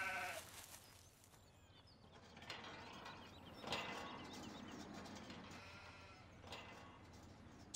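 Sheep bleating in the video game Farming Simulator 17 on the Freiensteinau map, with sheep unloaded near a gate and water trough. Scattered bleats rise over a continuous clanking, ratcheting mechanical background.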